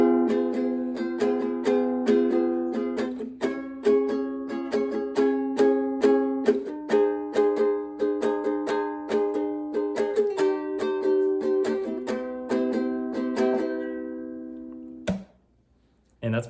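A ukulele strums the chord progression of a song in a steady down-down-up rhythm, close and bright. The strumming runs alone without talk, then stops abruptly near the end.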